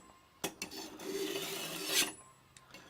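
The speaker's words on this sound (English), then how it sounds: "Now this sharpens both sides of the blade at one time." A knife is drawn through a V-Sharp sharpener on 350 grit, giving a faint raspy scraping stroke that swells to a sharp peak near the end, framed by a few small clicks, with no talk.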